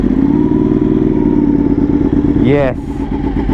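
A Ducati 1199 Panigale motorcycle with a Van Diemen exhaust idles loudly and steadily up close on a cold start, with a brief rising whine near the end, and a single short spoken word.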